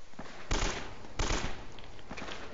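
Enemy gunfire in the video game Uncharted: Drake's Fortune, two sharp loud shots about a second apart over a busy game soundscape, with faint further pops trailing after; no speech.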